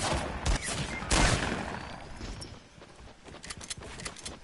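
Scattered video game gunfire, a few sharp bursts near the start and then quieter rattling shots further off, fairly faint overall with no speech.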